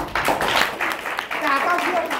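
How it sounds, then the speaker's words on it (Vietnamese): A seated audience gives a short burst of applause, brief and fairly faint, mixed with voices talking over it. "một tràng vỗ tay"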